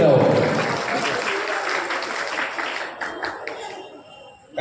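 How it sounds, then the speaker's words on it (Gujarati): Loud applause from a crowd at a Vali barber community trust's New Year get-together in Ahmedabad, fading slightly over a few seconds with voices mixed in. "જોરદાર તાળીઓથી બતાવો"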